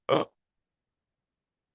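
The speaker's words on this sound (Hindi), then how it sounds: "मंदिर में किसी को भी डकार नहीं लेनी चाहिए" A single short burp, a brief close throaty burst lasting a fraction of a second, followed by silence.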